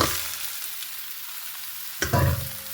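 Chicken pieces go into a hot pan of sautéed onion, ginger and garlic, sending up a steady close sizzle that swells into a louder burst of frying near the end, with a brief clatter as they land.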